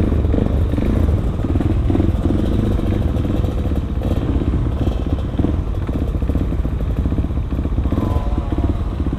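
Suzuki DRZ 400 supermoto motorcycle ridden at night, a steady loud engine drone with wind rush throughout, close and continuous, with no talking.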